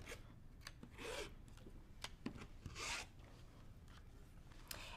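Rotary cutter slicing a 4.5 inch fabric square along a square ruler while quilting, heard as several short rasping scrapes and rubs at close range, with no talk.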